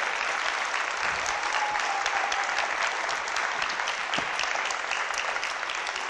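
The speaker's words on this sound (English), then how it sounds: "Big applause." A startup competition audience applauds the winning team on stage, a dense, steady roar of many hands clapping that holds loud and even throughout, with no voices standing out.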